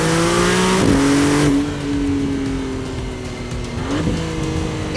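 Maserati MC20 Nettuno engine revving loud and close, a sustained high-revving howl that drops briefly after about one and a half seconds, then climbs again toward the end.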